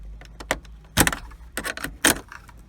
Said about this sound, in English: So pop those 2 clips off.